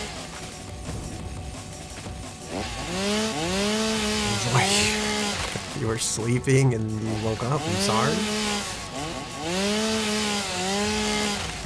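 Chainsaw cutting wood in a video game, a steady buzzing drone running continuously through the scene with revving swells, under someone speaking over it.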